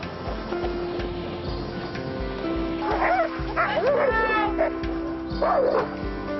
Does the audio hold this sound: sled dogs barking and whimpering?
yes